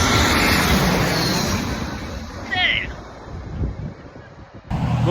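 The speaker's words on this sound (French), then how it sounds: "Tellement que le vent il était puissant" Strong wind in Thailand buffets the microphone with a loud, continuous roar and rumble, easing slightly midway before surging again, while a voice speaks briefly underneath.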